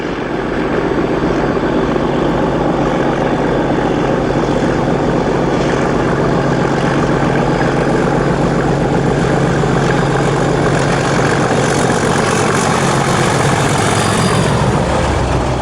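British diesel locomotive 37146 at Bristol Parkway station in 1994, giving a loud, close, continuous engine roar that holds steady throughout and only shifts slightly near the end, with no voices.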